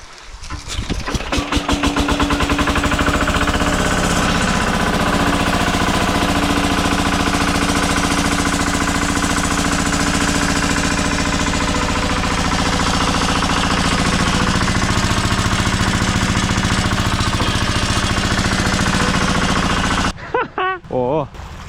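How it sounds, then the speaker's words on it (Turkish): A Lamborghini 17 water pump engine used to irrigate corn fields roars to life and runs loud and steady with a hard, rapid pounding for about twenty seconds, then cuts off abruptly. "Su motorumuzda Lamborghini 17'lik. Mısır tarlalarımızı bunda suluyoruz. Bu şekilde. Şimdi çalıştıralım."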